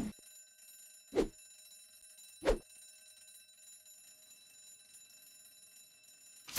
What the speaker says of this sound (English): This is a fire alarm.